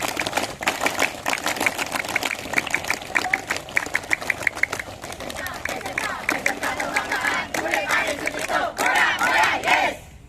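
A seated audience at a traffic-rules outreach session in Samalantan, Bengkayang, performs the scout clap chant, with rhythmic bursts of group clapping in set patterns mixed with shouted voices, closing in a louder, looser burst.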